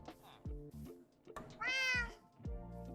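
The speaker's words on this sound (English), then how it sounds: "That's my cat." A Minecraft cat meows several times in quick, short calls, with one longer, brighter meow in the middle, heard fairly close amid quiet game sounds.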